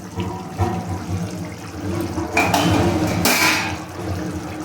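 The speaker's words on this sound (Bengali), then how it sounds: "চিকেনটা একদম টকবক করে ফুটছে" Masala chicken curry boils in an uncovered pot with a steady, close, watery bubbling, swelling into a couple of brief louder surges, with no talking.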